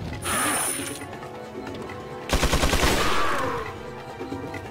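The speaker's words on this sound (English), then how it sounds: "I have to keep shooting him." Loud gunfire rings out at an enemy in the video game Resident Evil 4, with a sharp burst followed by a rapid rattling volley of shots, all close and without talk.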